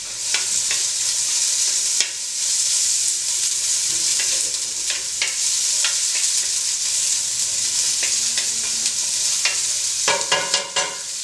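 Onions sauté gently in a pan until soft and translucent for Turkish lentil soup, a continuous even sizzle with occasional spoon taps and scrapes, louder clattering stirs near the end.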